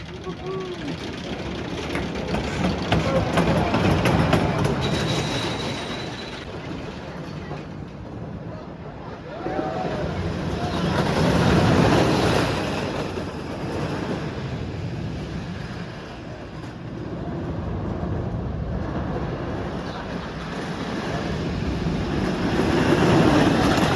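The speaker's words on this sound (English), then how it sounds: "Just finished my first ride on Wooden Warrior today." Ride aboard the Wooden Warrior, a wooden roller coaster at a Connecticut park, with a steady rumbling clatter of the train on the track that swells and fades over the run, mixed with wind noise and riders' voices.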